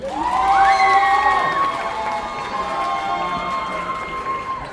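A convention audience cheers and shouts in a loud opening burst that eases into sustained crowd noise with scattered whoops.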